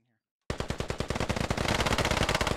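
Rapid automatic gunfire in a video game, bursting in abruptly after a short silence and continuing as a dense, loud rattle of shots to the end.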